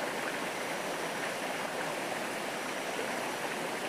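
A mountain river rushes steadily and close by, a dense, unbroken hiss of flowing water with no pauses and no voices.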